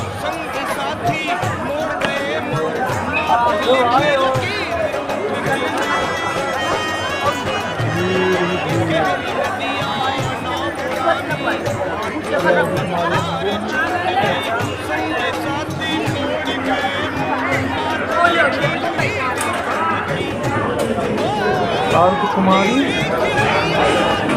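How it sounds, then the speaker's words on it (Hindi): A dense crowd of pilgrims at Ardhkuwari on the Vaishno Devi route, a constant loud babble of many voices close around, with nearby speech. "देखो भाई कितनी भीड़ है"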